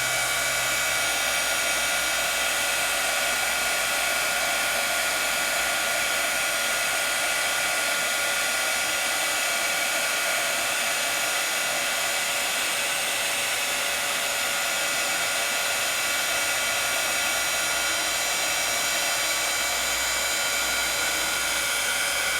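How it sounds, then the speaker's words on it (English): A Sizzix heat tool held close to melt embossing powder on a craft project, blowing a constant loud fan-and-air roar that stays unchanged throughout. "I'm using a Sizzix heat tool, so I'm getting right down on it and I'm not burning it."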